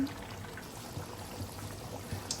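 Water pours in a steady, low splashing trickle into a cooking pot of boiled duck meat, continuous and moderately close, with faint clinks near the end.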